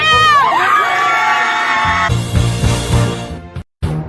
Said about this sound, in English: And we'll cheer for you!